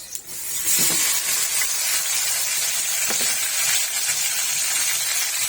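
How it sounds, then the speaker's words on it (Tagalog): Fresh shrimp paste (alamang) sautéing with onions in a pan, giving a loud, steady sizzle and hiss that runs unbroken from start to finish, with a few faint stirring knocks and no voices. "Gigisa ko siya. Ito na nilagyan ng sibuyas."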